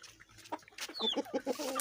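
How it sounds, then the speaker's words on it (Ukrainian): Several short clucks from chickens close by, irregular and moderately loud, with soft rustling in the background. "Да, кури тут едят."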